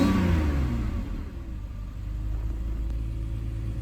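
A 25-year-old BMW E38 728i inline six-cylinder petrol engine, recommissioned after two years off the road, revs loudly and close, a steady deep rumble that eases slightly then holds, with no talk.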